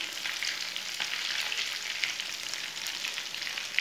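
Potato tikki frying in a pan, a steady, even sizzle and crackle of hot oil that runs unbroken throughout, fairly close and with no voices over it.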